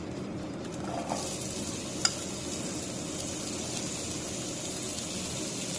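Onion fries in hot oil with garlic and green chili, giving a continuous close sizzle with a faint clink partway through and no voices.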